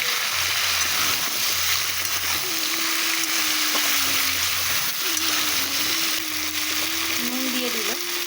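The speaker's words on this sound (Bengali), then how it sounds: "এই যে মা গাটি আর আলুগুলোকে দিয়ে দিচ্ছে, একটু ভাজা ভাজা করে নেবে মা।" Gaati kochu and potatoes with turmeric fry in a pan, a steady close sizzle that runs unbroken, with a faint low hum and some tonal sounds in the background.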